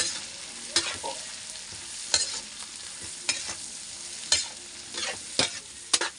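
Pancit noodles get stirred and tossed in a frying pan with a crumbled stock cube, sizzling throughout. A spatula scrapes the pan in repeated distinct strokes, close and clear, with no voices.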